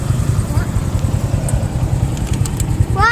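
A fully loaded motorcycle engine runs close by with a steady, loud low putter, while people talk over it.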